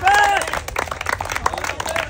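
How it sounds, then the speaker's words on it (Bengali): An outdoor crowd at a game of walking a wobbly banana trunk to drop a ball in a basket claps and cheers in a scattered, busy burst, with voices mixed in. "সবাই একটা জোরে তালি হবে"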